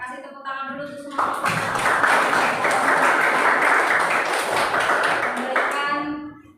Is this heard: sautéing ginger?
no